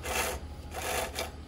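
A chainsaw chain driven by a 60,000 PSI waterjet spins freely, giving a loud close rushing whir with a low hum beneath it that swells and eases in a few pulses.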